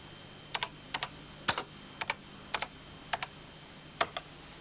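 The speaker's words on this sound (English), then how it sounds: "we can insert a new line simply by typing its number and then the text of the line" Keys clatter on a BBC Microcomputer keyboard while a line of BASIC is entered, with short paired keystrokes arriving in spaced bursts, close and crisp, with no talking.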